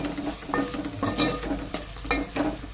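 A spatula works through fish curry seasoned with chili powder in a pan, giving rhythmic scraping strokes about every half second over a low, steady sizzle, close and fairly loud.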